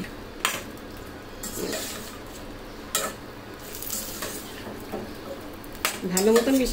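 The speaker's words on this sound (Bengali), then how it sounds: "এখন এটার সাথে ভালো মতন মিশিয়ে" Chicken being stirred and mixed in a pot for a Punjabi-style dish, with a few soft scrapes and clinks of the spoon against the pot over a low kitchen background, followed by a brief burst of voice near the end.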